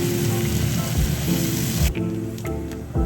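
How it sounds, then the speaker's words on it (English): Garlic chile lime ramen sauce with chili oil and lime juice simmering in a pan, a loud steady sizzle and bubbling close by, briefly dropping and then resuming, with no voices. "Let this simmer for a minute."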